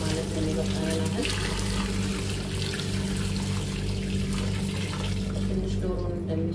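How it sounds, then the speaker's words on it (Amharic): Boiling water is poured into a pot of fried onions and spices for a chicken and rice dish, a steady rushing pour and sizzle that runs continuously and loud up close with no pause. "የፈላ ውሃችንን እንጨምርበታለን ማለት ነው።"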